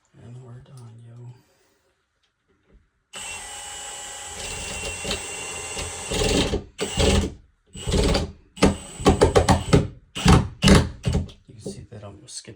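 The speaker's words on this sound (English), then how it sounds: "now I just need to put these last 2 bolts in, and we're done" Bolts being driven in to secure a grab bar in a restroom, heard as bursts of whirring power-driver noise in short pulses after a quiet start with brief talk.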